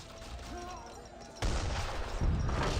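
Mortar fire in the Age of Empires 3 strategy game sounds as two heavy booming blasts about a second apart, rising out of a quieter, hazy battle backdrop.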